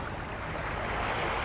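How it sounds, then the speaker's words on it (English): Sea waves wash along the Kuşadası seafront in Turkey, a soft, steady broadband rush with no distinct breaks, heard alone without voices. "the sound of the sea."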